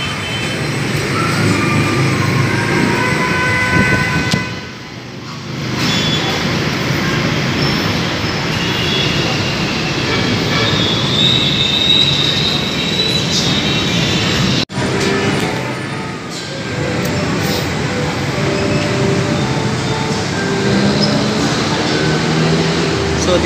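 An LRT light rail train rumbles through Blumentritt Station in Manila, a loud, continuous roar of wheels and carriages with brief dips and a high squeal, under street bustle.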